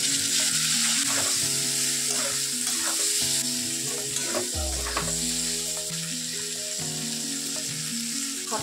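Green peas sizzle in a pan with chilli powder and coriander-cumin powder while being stirred, a steady close frying hiss with scraping strokes, set against a continuous tonal background like music.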